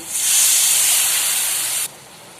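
A loud, sharp hiss of water hitting a hot pan, sizzling steadily for nearly two seconds before dropping abruptly to a quieter simmer.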